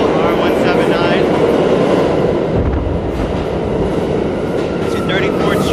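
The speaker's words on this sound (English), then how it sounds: "we'll first start off by riding this beautiful R179" An R179 subway train on the IND 8th Avenue Line in Manhattan, heard from inside as a loud, steady rumble of wheels and motors with faint squeals and no clear talking.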